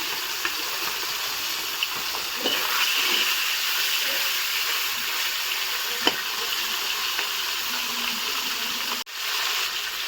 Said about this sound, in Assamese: মই মাছখিনি ধুনীয়াকৈ ভাজি লম